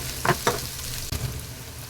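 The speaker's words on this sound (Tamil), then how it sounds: "வெங்காயத்தை இது மாதிரி நல்லா வதக்கி விட்டுருங்க லைட்டாக" Chopped onions sauté in a pan for a prawn fry, a close, steady sizzle broken by a few quick stirring scrapes over under two seconds, with no voices.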